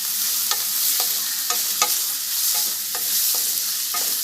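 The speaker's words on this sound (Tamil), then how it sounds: "இதில் 2 பச்சை மிளகா, ஒரு 10 பூண்டு பொடி எடுத்து வச்சுருக்கேன், அதையும் போட்டு நல்லா வதக்கிக்கலாம்." Green chillies and chopped garlic sauté in oil for a fish curry, a close, steady sizzle with regular stirring scrapes about every half second.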